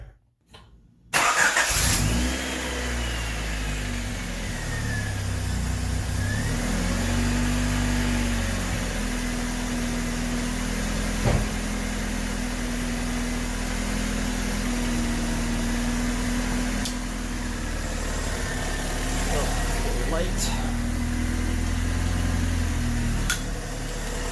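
A 1988–91 Honda Civic idles steadily after a leaking exhaust header is sealed, a close, even engine drone with a low hum that holds for the whole stretch, with no talk.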